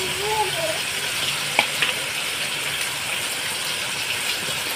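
Chela fish dropped into spices in a frying pan sizzles with a steady broadband hiss, punctuated by a couple of brief clinks; a voice talks faintly underneath.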